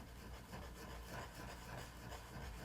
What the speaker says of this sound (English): take one of these mono sand erasers, or any sand eraser, any brand, and lightly, in a circular motion,